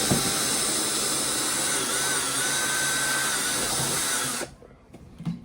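A power drill bores steadily into a box for about four seconds at close range, loud and continuous, then cuts off abruptly, leaving a few faint handling knocks.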